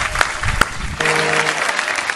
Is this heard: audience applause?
yes